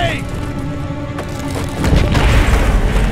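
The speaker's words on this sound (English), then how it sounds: "Grushenko had the place wired to blow!" A rigged facility blowing up in the Call of Duty: Black Ops game, a deep rolling boom that swells and keeps rumbling heavily, up close and loud.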